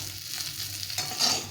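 Tengra fish frying in oil make a brief, continuous crackling sizzle that brightens toward the end, with no speech.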